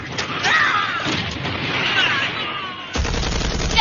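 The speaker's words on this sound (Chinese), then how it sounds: "命令炮兵延伸射击" Artillery fire in a war drama sounds as a dense, continuous roar of blasts and crackling gunfire with a sharper burst near the end, heard close and loud.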